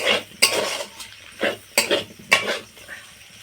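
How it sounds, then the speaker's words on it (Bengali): Homemade pasta with vegetables being stirred in a pan, with repeated scraping and clattering strokes of a utensil against the metal, several distinct knocks at an uneven pace over a faint sizzle. "পাস্তাটা দিয়ে একটু নাড়াচাড়া করে নিয়েছি"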